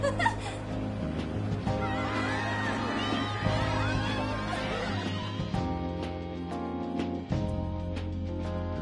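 A crowd in Persona 5 Strikers murmurs and chatters in a busy store setting, with laughter-like voices and a mix of game music, layered and continuous at moderate loudness.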